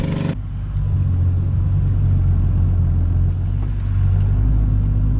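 A farm vehicle pulling a full fertilizer trailer out of a field sends a loud, steady low engine rumble, with no break in the droning from start to finish after a brief opening.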